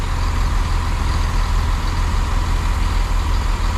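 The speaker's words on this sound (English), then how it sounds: "arriving now is 165110, forming the 1854 to Gatwick Airport from Reading" A Class 165 diesel multiple unit arrives at a station platform, its engine giving a loud, steady low rumble and drone throughout the short clip, with no voices.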